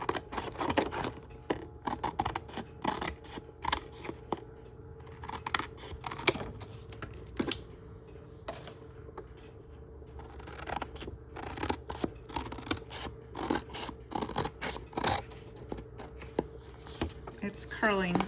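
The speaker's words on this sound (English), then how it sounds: "I'm going to cut off the edges to release the two papers from" Scissors snip through laminated paper to trim its edges, giving a run of crisp, close cutting clicks that repeat in quick bursts with short pauses between them throughout.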